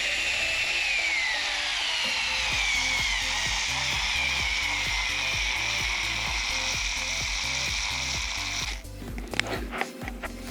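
Small Pkey electric screwdriver driving a screw into a 2x4: a steady high motor whine that shifts in pitch as the screw bites into the wood, then stuttering strained bursts near the end.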